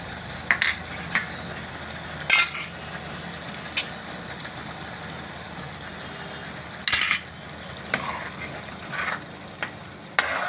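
Curd is stirred into a sizzling tomato masala gravy for a cabbage roll curry, giving a steady soft frying hiss with occasional sharp clinks and scrapes of a spoon against the pan.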